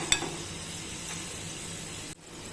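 Masala dal fries in hot oil with a steady, close sizzling hiss, punctuated by a few light clinks of a metal slotted spoon against the pan before the sound cuts briefly.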